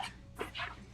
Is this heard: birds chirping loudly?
no